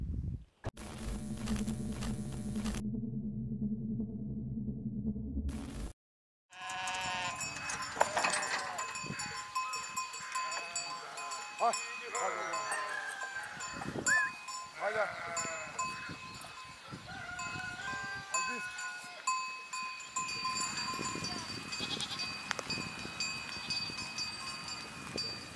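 A flock of sheep bleats repeatedly at close to mid range around Hioara, with overlapping calls, faint cowbell clinks and footsteps, after a brief burst of other noise at the start.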